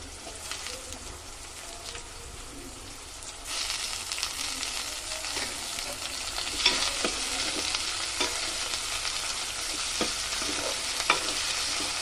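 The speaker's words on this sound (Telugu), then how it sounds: "సో ఫస్ట్ బాండి పెట్టుకొని ఆయిల్, ఉల్లిగడ్డలు, పచ్చిమిర్చి వేసుకొని మంచిగా వేయించుకోవాలండి." Onions and green chillies fry in hot oil in a pan with a steady crackling sizzle, louder after a few seconds, with scraping stirs throughout and no talk.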